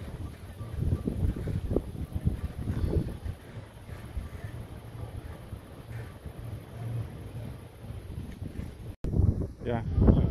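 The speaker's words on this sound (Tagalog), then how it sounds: "At malakas ang hangin dito ngayon" Gusty wind buffets the microphone in loud, uneven rumbles at Mtatsminda Park in Tbilisi, Georgia, with faint voices and distant ambient noise between the gusts.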